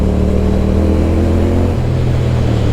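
A BSA motorcycle in second gear pulls hard up a hill, its engine droning loud and close with a steady, throbbing note that shifts slightly in pitch partway through as it accelerates.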